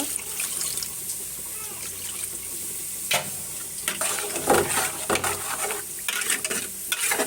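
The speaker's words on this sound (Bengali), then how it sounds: "ডাটার আলুটা কষানো শেষ, এখন এই যে জল দিয়ে নিব" Water poured into a pan of sautéed drumsticks and potatoes, a loud hissing burst and bubbling sizzle with stirring scrapes and splashes, rising and falling in bursts.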